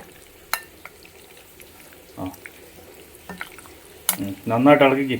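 Goat liver curry with masala is stirred and fried in a pan, giving soft scraping and clinking of the spoon, then a burst of loud sizzling near the end, with faint talk in the background.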